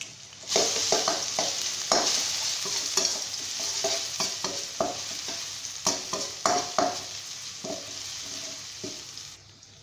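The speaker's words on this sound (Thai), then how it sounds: "ผัดกระเทียมแล้วก็ใส่พริกไทยนิดนึงเนาะนี่ค่ะใส่กระเทียมลงไปนะคะ" Garlic stir-fries in a hot pan for shrimp with garlic and pepper, a steady sizzle broken by repeated sharp scrapes and clacks of a spatula against the pan.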